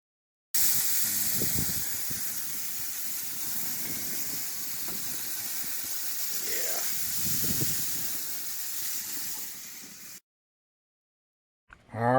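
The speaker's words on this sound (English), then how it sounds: "Use some of that great artesian water to steam it." Burgers sizzling in a hot pan in an RV kitchen as artesian water is added, giving a sustained broadband steam hiss for several seconds under occasional clatter, then cutting off abruptly.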